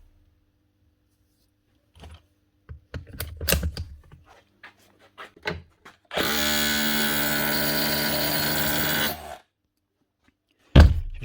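A cordless DeWalt SDS drill in a repair workshop gives a few short test bursts and knocks, then runs in hammer mode for about three seconds as a steady, loud rattling buzz, followed by a sharp clunk.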